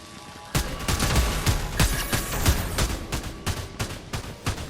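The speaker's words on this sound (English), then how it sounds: "NPCs are shooting up." Dense, rapid gunfire from non-player characters in a Fortnite Zero Build championship match erupts after a short quiet lead-in, then keeps up as a steady, loud barrage of overlapping shots.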